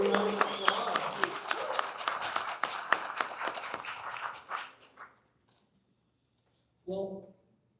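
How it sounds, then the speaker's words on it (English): Audience applauding at a product announcement event for a 3D printer maker, a crowd of clapping hands near and busy, tapering off into silence before a short burst of voices. "Give a round of applause."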